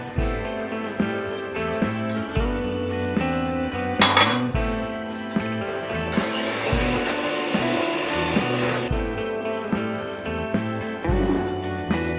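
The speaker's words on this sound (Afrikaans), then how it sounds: "Nou moet ons die asyn byvoeg en alles in die glasbak insit." A glass bowl clinks and rattles repeatedly as vinegar and other ingredients go in for a malva pudding, with a steady run of close kitchen knocks and chinks and no talking.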